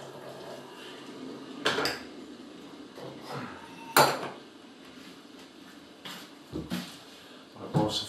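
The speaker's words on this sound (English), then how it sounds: "First of all, is get the kettle on, make the coffee." Dishes and cutlery clatter in a home kitchen while a kettle is put on for coffee, with scattered clinks and knocks of crockery and metal at moderate loudness and no talking.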